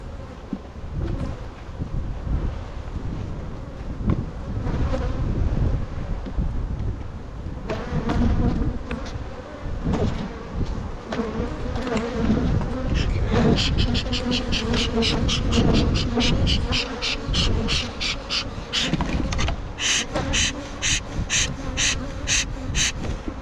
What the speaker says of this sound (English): These bees are extremely gentle.